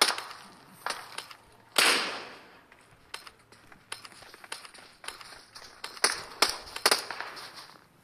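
Gunfire in a PUBG Mobile custom match: sharp, scattered shots and short bursts at irregular intervals, some near and loud, others fainter, over a low ambient background.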